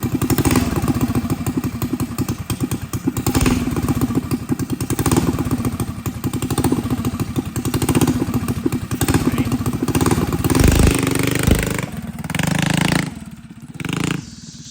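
A small dirt bike engine runs loud and close, with a rattly, buzzing idle, uneven revs and occasional thumps and clatter.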